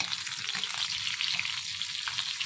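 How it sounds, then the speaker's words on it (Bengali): Steady crackling sizzle of pointed gourd frying in a pan, close and continuous, with no voices. "এখানে পটল ভাজা বসিয়ে দিয়েছি"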